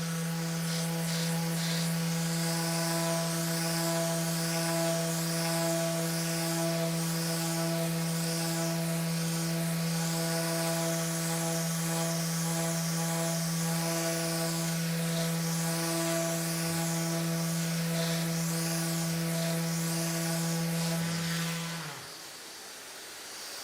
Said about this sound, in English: now with the sander, because I know exactly where the areas are that need to be reworked, we can go over those